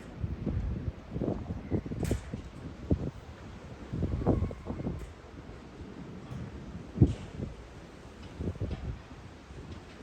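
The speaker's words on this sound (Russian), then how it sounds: "Слушайте, как ветер воет." Gusts of wind buffet and rumble in uneven surges during a rainstorm, with scattered light ticks and taps, fairly close and no one speaking.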